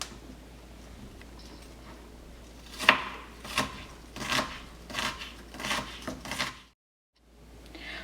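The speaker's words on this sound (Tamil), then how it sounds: "ஆனியன்ஸை வந்து நல்லா சின்ன சின்னதாக கட் பண்ணிக்கிறேன்" Onions being cut finely with a knife on a board, a run of crisp, irregular strokes that grow denser midway, recorded close, then a brief silence and faint resumed noise.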